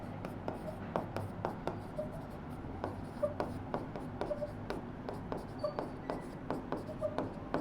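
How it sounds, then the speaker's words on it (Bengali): Pen scratches on paper while chemistry is written out, a steady run of short strokes and taps close to the mic, with a teacher's voice speaking faintly underneath. "এখন আমি লিখে দিচ্ছি যে"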